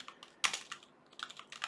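Light clicks of typing on a computer keyboard come in short irregular bursts, close and fairly quiet, with no speech.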